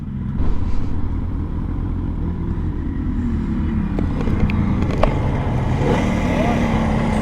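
Motorcycles on a group ride out, including two-stroke bikes, a Kawasaki H2, a Fazer and CBXs, rumble steadily as engines run and pass nearby, with a few sharper revs and people talking over the continuous noise.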